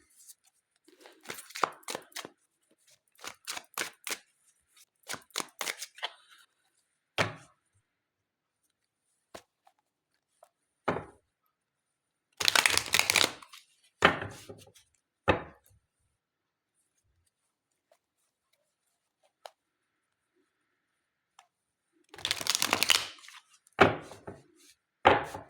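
Tarot deck being handled and shuffled during a card reading, giving brisk papery riffles and slaps in separate bursts with quiet gaps between them, close to the listener.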